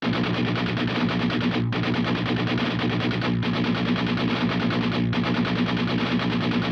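Heavily distorted electric guitar from the Shreddage 3.5 virtual instrument chugs repeated low single notes in a steady driving rhythm, with brief gaps between phrases, loud and with no voices.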